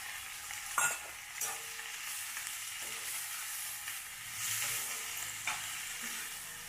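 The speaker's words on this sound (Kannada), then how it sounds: "ಇದು ಸ್ವಲ್ಪ ಬ್ರೌನ್ ಕಲರ್ ಬರೋವರೆಗೂ ಫ್ರೈ ಮಾಡ್ತಾ ಇರಬೇಕು" Onions, garlic and tomatoes frying for chutney in a pan, a soft continuous sizzle with occasional stirring scrapes and light knocks, fairly quiet and close.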